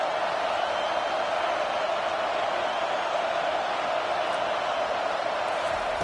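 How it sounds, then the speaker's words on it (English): Stadium crowd noise in the NCAA 25 college football video game, a steady loud roar building on a third-down defensive stand, continuous broadband cheering throughout with no break. "Decibels rising as the crowd gets behind this defense on 3rd down."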